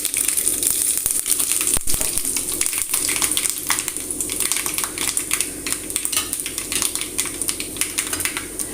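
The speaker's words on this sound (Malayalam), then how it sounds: "കടുകൊന്ന് പൊട്ടി വരുമ്പോൾ നമുക്ക് രണ്ട് വറ്റൽ മുളക് ഇട്ട് കൊടുക്കുന്നുണ്ട്" Loud, continuous crackling and popping of mustard seeds and dry chillies frying in hot oil, with a sharp clatter partway through.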